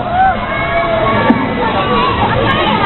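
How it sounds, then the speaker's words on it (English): A crowd of children at a live kids' show screaming and cheering together, a dense, continuous loud babble of high voices. "Let me hear a cheer. Scream as loud as you can."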